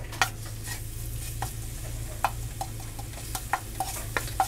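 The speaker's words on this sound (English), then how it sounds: "Saute this for just a minute." Minced garlic sautés in a pan, a steady close sizzle broken by scattered clicks and scrapes of stirring.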